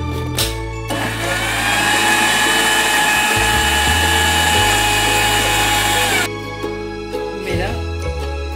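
A blender grinds mango milkshake ingredients flavoured with cardamom, a loud high whirring motor roar that starts abruptly, runs steadily for about five seconds, then cuts off, with no talk over it.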